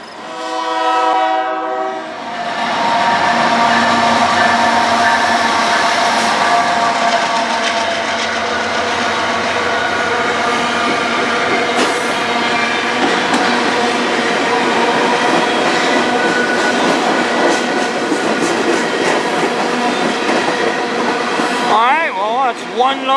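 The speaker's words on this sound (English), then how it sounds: "One loco, but this train should have another one at the back." Freight train hauled by one locomotive opens with a loud multi-tone horn blast, then rolls past with a sustained rumble, squeals and clanking of wagons, close and loud, with a second horn near the end.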